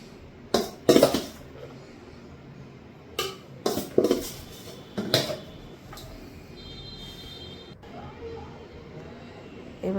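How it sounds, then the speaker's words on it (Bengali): Leftover rice being added to a vegetable biryani pot, a handful of sharp metallic clinks and scrapes of a utensil against the pot in separate bursts, fairly quiet, with a brief voice in the background. "বাকি রাইসটা দিয়ে দিলাম।"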